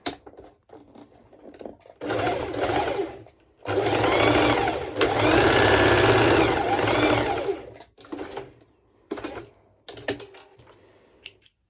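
A sewing machine runs in short, loud bursts while it stitches back and forth to tack a strap onto a sporty top with a mesh overlay, with brief pauses and quiet handling noises between the runs.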